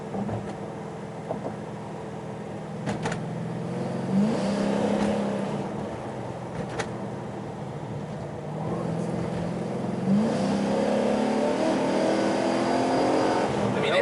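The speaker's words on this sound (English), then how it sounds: "try to get a little bit of a glimpse of this exhaust when he's at full open throttle" A modified Chevy Caprice police car roars at full throttle uphill, revving up and climbing in pitch twice as it accelerates, with steady road and wind noise throughout.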